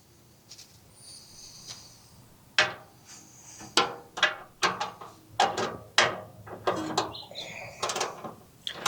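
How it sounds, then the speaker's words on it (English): A ratchet clicks in quick, close bursts while bolts are undone on a 1964 Nova SS project car. The irregular runs of sharp metallic ticks repeat several times, loud and near, with no talk. "I'm going to undo these 8 bolts, and we'll at least start putting that in."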